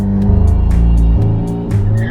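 McLaren 720S supercar launching hard under launch control, a loud, close engine roar climbing through rapid gear changes with a brief tire chirp, filling the whole stretch without pause.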